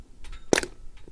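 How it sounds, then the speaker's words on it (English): A single sharp shot from a Barra 1866 lever action CO2 BB rifle fitted with a .22 caliber rifled barrel, a close, crisp crack with a short pneumatic snap, surrounded by quiet room noise. "So here we go, first shot."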